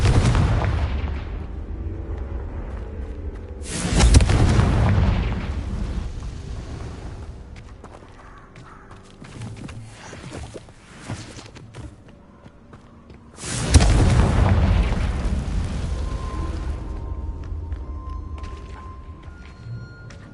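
Confringo explosive spells blast in Hogwarts Legacy: two heavy booms land about ten seconds apart, each with a long rumbling tail that fades into quieter ambient game sounds, with no talk.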